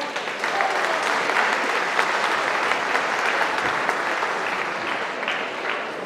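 Loud, sustained applause from an audience at a municipal New Year's reception, a dense steady wash of clapping lasting about six seconds after a singer is introduced.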